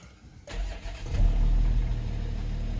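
A 2017 VW Touareg 3.0 TDI diesel cranks briefly and then fires into life, settling into a steady, moderately loud idle heard from nearby.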